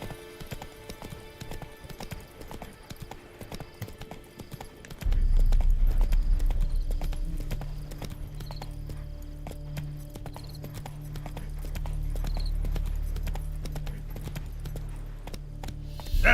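Roach the horse gallops in The Witcher 3, a quieter stretch of ambience giving way to loud, rapid, rhythmic hoofbeats that pound steadily and close for the rest of the clip.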